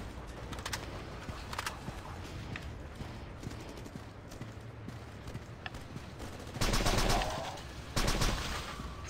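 Gunfire in the shooter video game Unkilled comes as faint scattered shots, then two louder rapid bursts near the end over a steady ambient game background.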